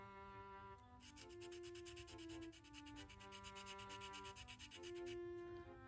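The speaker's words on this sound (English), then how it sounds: "Glued a little sandpaper to, this is a stir stick." Sandpaper glued to a wooden stir stick rubs over a small wood carving of a tufted titmouse in quick, even back-and-forth strokes, soft and close, over a faint tonal background hum.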